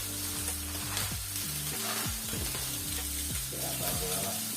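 A flipped steak fries in a pan with a close, steady crackling sizzle that continues under background music throughout.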